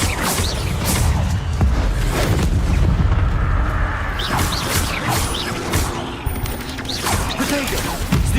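Incendio fire spell being cast in a Hogwarts game, a series of booming, crackling bursts and whooshes with repeated sharp impacts over a rumbling low roar, loud and continuous.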